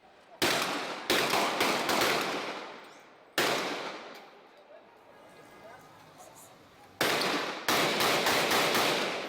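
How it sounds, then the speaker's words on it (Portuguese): Bursts of loud gunfire crackle in rapid volleys with short pauses during a nighttime shootout, echoing from a distance over faint background voices. "mostram a intensa troca de tiros."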